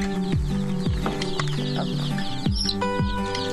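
Hens cluck in a shared henhouse in Sainte-Anne, Guadeloupe, with repeated close, loud, descending squawks and clucks over a busy background.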